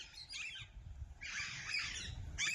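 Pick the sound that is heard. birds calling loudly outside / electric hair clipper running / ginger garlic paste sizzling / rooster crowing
birds calling loudly outside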